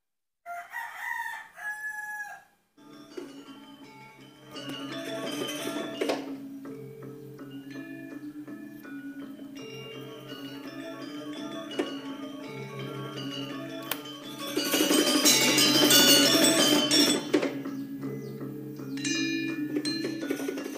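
Balinese gamelan music for the Baris Tunggal dance, with bright, layered metallic chimes and gongs playing a busy rhythmic pattern, swelling louder near the end, after a brief opening sound.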